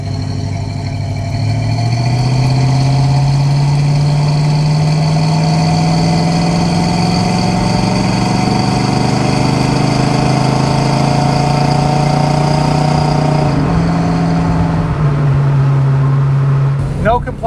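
A restored 1966 Ford Mustang with a 289 V8 and automatic transmission idles steadily up close, its low, even rumble holding constant before a brief dip and shift in pitch near the end.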